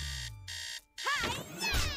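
A cartoon alarm bug from Amphibia rings like an alarm clock, a loud steady electronic buzzing tone that cuts off briefly, then resumes as a voice speaks over it.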